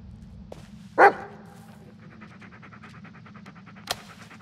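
A dog pants in quick, steady rhythmic breaths after a loud burst near the start, then a short sharp sound near the end, in a quiet forest setting.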